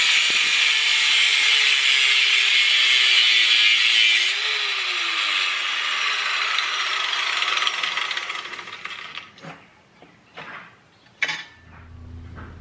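A power saw cuts a Honda Ruckus front fork tube being shortened to lower the forks, giving a loud, steady metallic whine with a dipping pitch. The cut then ends in scattered clanks and taps of metal as the tool winds down.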